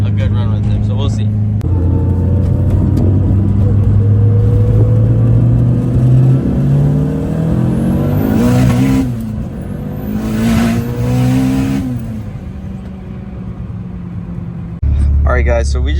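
Big-turbo Mitsubishi Evo accelerating hard on a run, engine note climbing steadily through the gears with brief shift breaks, loud and close with a turbo rumble throughout.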